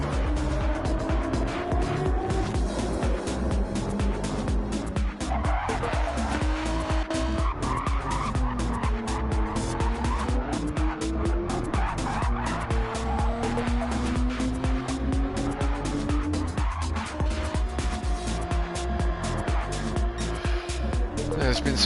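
A Group 4 Subaru race car in a racing video game pulls out of the pits at the Nürburgring, its engine droning steadily with tire skids throughout, under continuous voices.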